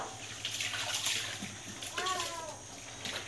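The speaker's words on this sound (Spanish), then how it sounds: "Mientras ella enjabona los trastes, yo los estoy desaguando o pasándoles agua aquí." Washed dishes rinsed under running water in an outdoor sink basin, steady trickling and splashing throughout, with clattering of dishware and voices talking nearby in the background.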